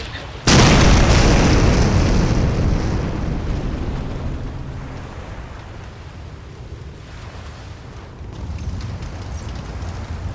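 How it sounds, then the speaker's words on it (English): A pier blows up in a video game with one sudden, loud boom that rolls into a long, slowly fading rumble over a background of waves and wind. "The pier's gonna explode any second."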